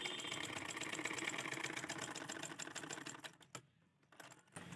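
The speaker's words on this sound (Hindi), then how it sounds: "अब यहाँ से हम सिलाई लगाऊंगी।" A sewing machine stitches the slips of a double-cup blouse, a close rapid rattling run that fades out after about three seconds, followed by near silence and a couple of small clicks.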